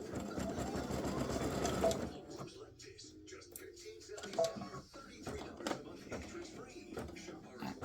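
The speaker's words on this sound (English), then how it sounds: "now it's going to do the satin stitching all the way again around" An embroidery sewing machine runs fast satin stitching for a couple of seconds, a dense close whirring buzz that then stops, followed by quieter handling and a person talking.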